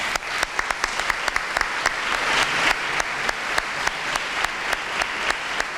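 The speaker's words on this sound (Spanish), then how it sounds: "pido un aplauso para Juan" An audience at a book presentation applauds steadily, a dense wash of many hands clapping with sharper individual claps standing out, loud and sustained for several seconds without talk.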